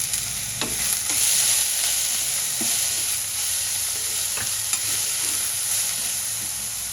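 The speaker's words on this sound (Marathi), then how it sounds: "ओली हळद, थोडे बीटचे तुकडे आणि कांदा घालूया आणि छान परतून घेऊया." Chopped onion, fresh turmeric and beetroot pieces sauté in a pan with a steady sizzle, broken by occasional scraping stirs of a utensil.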